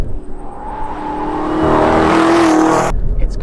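Chevrolet Camaro ZL1 1LE running on a race track, its engine note rising steadily as it accelerates, loud and close, then cutting off abruptly near the end.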